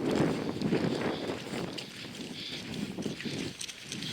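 Sea and wind at a Brittany shore: rushing wind buffeting the microphone over the wash of waves, continuous and fairly close, rising and falling in gusts.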